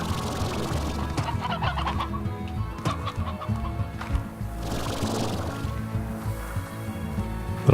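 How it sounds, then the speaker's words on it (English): Hens clucking in the video game Slime Rancher, a steady stream of close, busy clucks and squawks over a continuous game backdrop, without speech. "We got some hens poking around."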